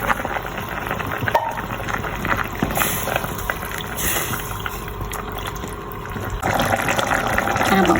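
Sardines going into a pot of simmering Indian sardine curry with cooked potatoes, giving a continuous wet bubbling and pouring sound with a sharper splash near the end, fairly close and steady throughout.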